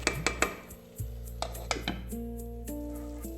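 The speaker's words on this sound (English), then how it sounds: "mix it thoroughly and close the lid again to continue cooking" Rice being stirred in a cooking pot with a spoon, then the lid set back on: a few sharp metallic clinks and scrapes, a louder clatter, then quieter taps as the lid settles. Close and clear, with no talking.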